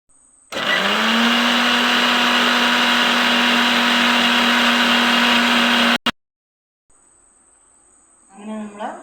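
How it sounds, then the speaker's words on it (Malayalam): An electric mixer grinder blends coriander chutney with a loud, steady high whine for several seconds, then stops abruptly, followed by silence and faint handling noise. "ഇനി ഇത് ഒന്ന് കറക്കിയെടുക്കാം മിക്സിയിൽ."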